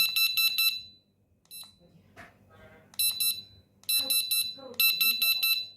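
A Flagman Euro Signal Intense electronic fishing bite alarm gives several bursts of rapid, shrill beeping separated by pauses, loud and close, while a voice speaks between the bursts.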